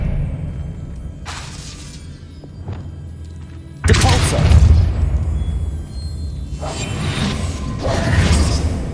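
Spell cast in the Hogwarts Legacy video game: sharp whooshes and a heavy burst of shattering impact with rumbling booms, several loud bursts in succession against game ambience.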